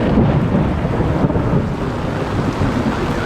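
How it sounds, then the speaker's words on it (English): Violent, sudden tropical rainstorm pouring down in Jaco, Costa Rica, with thunder rumbling; a loud, dense, continuous roar of heavy rain with deep low rumble throughout, no voices. "only to be caught in a violent and sudden tropical rainstorm that flooded much of Jaco"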